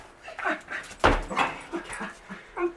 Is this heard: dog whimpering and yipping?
yes